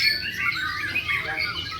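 Rich, varied song of white-rumped shamas (murai medan) at a bird-singing contest in Mamuju, with fairly faint, continuous, overlapping whistles and squawky phrases against background noise.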